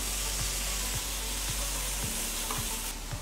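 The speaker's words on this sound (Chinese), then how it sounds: "然后我们就可以下猪肉，猪肉一下去呢，我们把它弄开先" Pork stir-frying in a wok with sliced garlic gives a steady, loud sizzle, with a spatula scraping the pan in regular strokes about twice a second.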